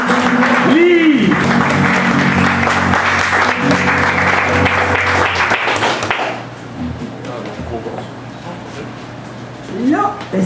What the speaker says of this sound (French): je vous demanderai à tous d'applaudir et d'accueillir Lee